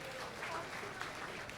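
A school annual day celebration audience claps in a brief, steady burst of applause from a crowd, with some talking underneath.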